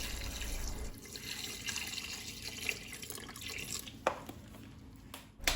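Water runs into a cooking pot over leftover plum pulp with pits during plum marmalade making, a steady close splashing hiss with a few sharper clinks and knocks near the end; no one talks.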